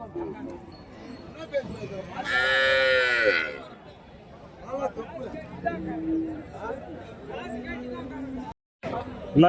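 Cattle at a rural livestock market in Krishnagiri district, with dairy and native breeds; a loud, drawn-out moo rises near the start amid crowd chatter and people talking nearby.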